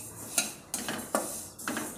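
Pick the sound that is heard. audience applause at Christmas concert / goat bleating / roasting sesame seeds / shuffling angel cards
roasting sesame seeds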